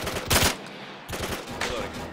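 Machine gun bursts of suppressing fire in the military shooter Arma 3, heavy rapid rattles in three separate clusters, the loudest near the start, with brief gaps between.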